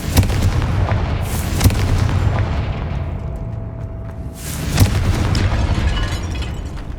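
An explosive Confringo spell in Hogwarts Legacy, cast inside a tomb, bursts with two loud booming blasts a few seconds apart, each followed by a long rumbling, crackling tail.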